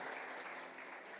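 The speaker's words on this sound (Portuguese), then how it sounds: "Vamos dar uma salva para o baterista, salva de palmas aqui." A church congregation applauds the drummer at a Sunday Bible school service, a short burst of even, moderately faint clapping with no voices.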